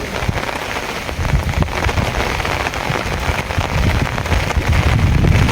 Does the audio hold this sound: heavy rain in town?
yes